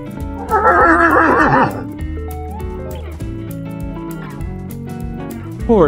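A farm horse gives a loud, close whinny lasting about a second, followed by softer snorts and quieter movement, ending with another brief burst.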